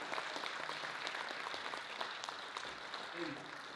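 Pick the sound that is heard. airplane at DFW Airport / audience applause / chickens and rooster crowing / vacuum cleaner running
audience applause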